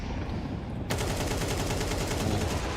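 Rapid gunfire from a Counter-Strike esports match, a dense burst of repeated shots that starts abruptly about a second in and keeps rattling loudly to the end, with no talk.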